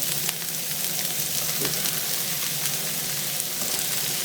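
Onions frying in hot corn oil in a pan, a dense, steady crackling sizzle heard close and loud, with a few faint stirring touches.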